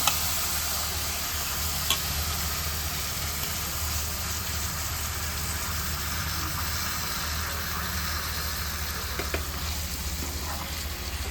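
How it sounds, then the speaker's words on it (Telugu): Potato pieces frying in oil in a pan, a steady, close sizzle that goes on the whole time with a few faint scrapes as they are stirred. "ఒకసారి కలపాలండి ఇలాగా మనం ఆయిల్ ముక్కలన్నింటికి తగిలిలాగా కలిపి"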